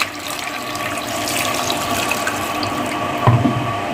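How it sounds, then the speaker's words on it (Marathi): Water pours steadily into a pressure cooker in a home kitchen, a continuous close splashing rush with a brief metallic clink near the end. "तर यामध्ये आपण पाणी घालूया."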